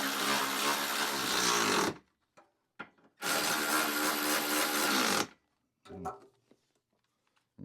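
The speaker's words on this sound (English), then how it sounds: "I'm going to have to use a ratchet over here" Bursts of a hand ratchet clicking rapidly as a bolt is tightened during a trailer hitch install on a 2020 Hyundai Santa Fe, two long close runs and then a few brief clicks with pauses between.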